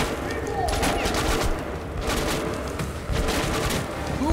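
Gunfire in the video game Metro: Last Light comes as bursts of rapid shots, loud and close, repeating in clusters over a few seconds.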